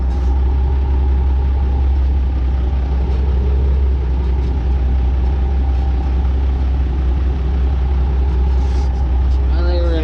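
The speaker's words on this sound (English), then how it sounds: "This is the worst part of backing this spreader in here" A truck engine idling and running steadily while backing a manure spreader into a cow yard, a loud low rumble throughout, with someone talking over it.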